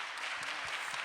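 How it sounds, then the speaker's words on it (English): An audience at a talk on poverty in America claps in a faint, even patter of applause heard from a distance, brief and with no voices over it. "Clap it up for that, for sure."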